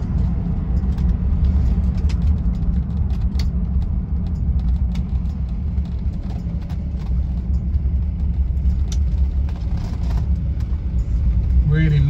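A 1976 Rolls-Royce Silver Shadow driving along, heard from inside as a steady low engine and road rumble with light knocks and rattles, continuous throughout.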